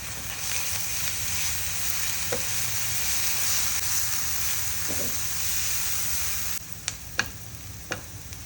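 Onions with ginger garlic paste, turmeric and red chili powder sizzle steadily in a pan while being stirred, a constant close frying hiss with a few sharp utensil taps near the end.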